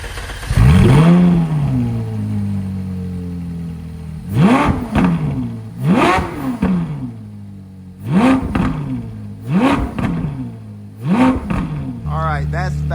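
A Ferrari 458 with an upgraded exhaust and valves open starts with a loud whooping crank, then revs repeatedly in sharp bursts from a steady idle, loud and close.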